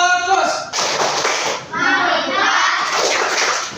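A class of children does the 'tepuk fokus' focus clap chant, rapid claps mixed with young voices calling out in unison, loud and close in a school setting, with a brief pause partway through.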